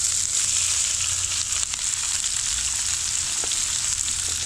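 Onions fry on a hot griddle for bacon jam, a steady, loud broadband sizzle that holds evenly from start to end with no one talking.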